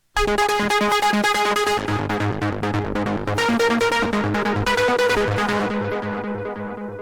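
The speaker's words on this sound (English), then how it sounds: "So if I hit one key, it's just going to play an arpeggio." A synthesizer arpeggio cycles rapidly through repeating notes in a steady, even pulse. It is loud and sustained before thinning out slightly at the end.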